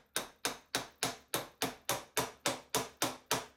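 About a dozen sharp metallic taps from a small hammer on a brass bar held against a model steam engine piston, at a steady, even pace, each ringing briefly before the next, close and clear with no talking.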